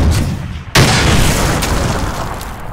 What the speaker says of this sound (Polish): W końcu z czegoś wybuchowego szczeliłem.